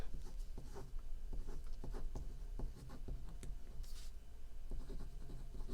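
A Twosun pen scratches across paper in short, uneven strokes, a close, dry scribbling rhythm of quick bursts with brief pauses, fairly faint and without talk.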